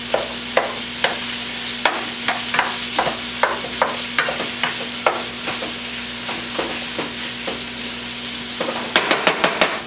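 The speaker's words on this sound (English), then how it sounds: "Give it a good stir. Break all this meat up really fine" Ground meat for piroshky filling sizzles in a pan while a utensil stirs and breaks it up, with repeated sharp scraping taps in an uneven rhythm over steady frying, close and clear, with a quick burst of clatter at the end.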